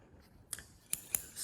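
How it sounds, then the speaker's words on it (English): Scissors snip through a paper template in three quick, crisp cuts, close and clear against near silence. "Scissors, here we go."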